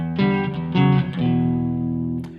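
A short sequence from a riff on electric guitar, with a few low plucked notes in quick succession ending on a longer ringing note, played up close and unaccompanied.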